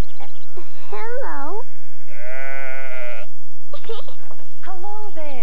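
Sheep bleat repeatedly in a children's cartoon farm scene, several loud wavering calls close by, one long sustained bleat in the middle.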